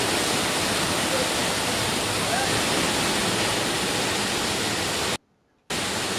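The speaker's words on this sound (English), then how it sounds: "That's actually the sound of the rocket venting, in case you're wondering." Terran-1 3D-printed rocket venting on its launch pad gives a loud, steady broadband hiss like rushing water, cut by a brief silent dropout near the end.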